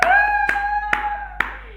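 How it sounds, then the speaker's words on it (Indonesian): Four slow, separate hand claps, spaced about half a second apart, over a sustained tonal hum. "Tepuk tangan dong."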